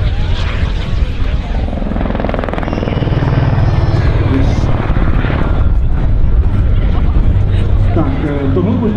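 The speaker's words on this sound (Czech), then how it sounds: "tohle je vrtulník společnosti Eurocopter AS350 společnosti DS" A Eurocopter AS350 helicopter at an air base open day gives a loud, continuous rotor and turbine roar with a throbbing low pulse, close by, as crowd chatter and voices mix underneath.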